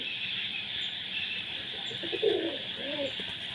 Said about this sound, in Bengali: এই যে নয় ডাক দেখুন, সব ডাকা ডাকাইতে ব্যস্ত।